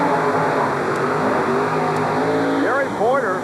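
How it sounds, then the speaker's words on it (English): A pair of Chevrolet monster trucks racing in round 1 at a 1990 TNT event in Flemington, engines roaring loud and continuous with a rising rev near the end, under a commentator's talk. "A pair of Chevrolets in round 1 competition."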